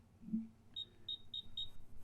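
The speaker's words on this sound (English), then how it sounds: "start beeping when you're in the vicinity of that tag" Four short high-pitched beeps from an inventory locator app near a tracking tag repeat at an even pace, quiet and close, after a soft low thump at the start.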